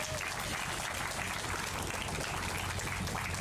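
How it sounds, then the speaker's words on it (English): A crowd at a City of Little Rock press conference applauds for an honoree, a soft and steady patter of clapping that stays fairly distant and faint. "Let's give a round of applause for Marty North"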